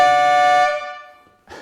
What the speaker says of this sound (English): train horn is what it sounds like.